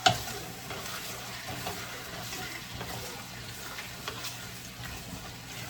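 Jerk marinade poured into a simmering chicken and red peas stew sizzles steadily in the pot, with stirring scrapes and a sharp clink at the start, and no talking.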